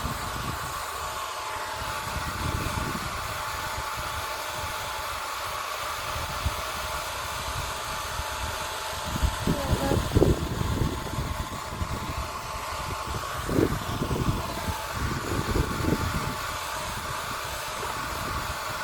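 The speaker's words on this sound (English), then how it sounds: "she's actually very happy with the hairdryer on her rear end on this low heat" Hairdryer blowing on low heat over a hen's feathers, a steady airy whir with muffled handling bumps and rustles mid-clip, no speech.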